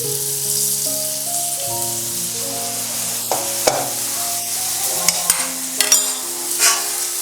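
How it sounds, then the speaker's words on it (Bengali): A cauliflower paratha frying on a pan over a medium flame as oil is drizzled in bit by bit at the side, a steady close sizzle with brief crackles and pops near the end over a background musical tone. "এবার সাইড থেকে আমি অল্প করে করে তেল দিচ্ছি।"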